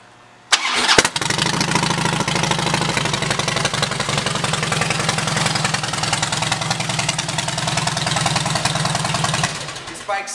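A 2010 Harley-Davidson Softail Deluxe with a fishtail exhaust and custom air cleaner fires up and settles into a loud, lumpy V-twin idle, steady potato-potato pulsing close by for about nine seconds before cutting off.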